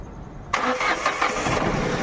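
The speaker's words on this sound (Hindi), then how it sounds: "देखो भाई गाड़ी चालू हो गई" A Datsun Go car engine, just repaired after an ECM fault that kept it from starting, cranks briefly and catches, then settles into a steady close idle; no talking.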